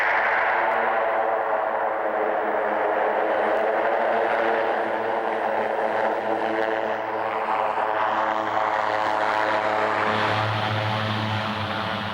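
Propeller airplane landing on soft snow on the Tasman Glacier, touching down around 70 knots: a steady, loud, close engine and airscrew drone with rumbling low end runs unbroken throughout, swelling slightly near the end, with no voices.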